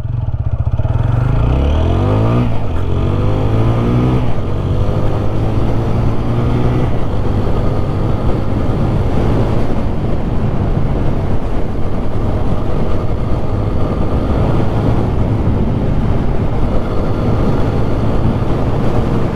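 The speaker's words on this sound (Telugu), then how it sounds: "ఎగ్జాస్ట్ సౌండ్ వినండి." An oil-cooled motorcycle in first gear rumbles loudly and close throughout, a steady low exhaust drone with a brief rise in pitch early on and no speech over it.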